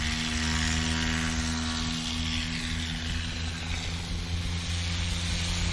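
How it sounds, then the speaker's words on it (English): Carbon Cub light aircraft taking off at a STOL practice event, its propeller engine droning steadily and loudly at full power throughout, with no voices over it. "here goes Paul Rogers now in that Carbon Cub. Best takeoff"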